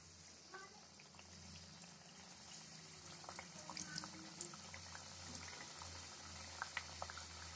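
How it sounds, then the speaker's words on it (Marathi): Millet tikki patties frying in oil, a soft bubbling sizzle with small pops, low and steady throughout. "आता आपण टिक्की हे अशी फ्राय करून घेऊ।"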